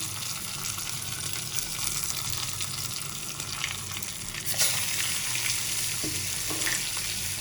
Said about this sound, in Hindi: 3 मिनट तक फ्राई करेंगे मसालों के साथ।